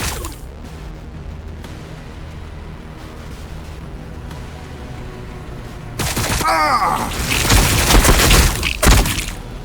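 A burst of heavy gunfire and shattering erupts in a Warhammer 40,000: Battlesector battle, loud and rapid after several quieter seconds of game ambience.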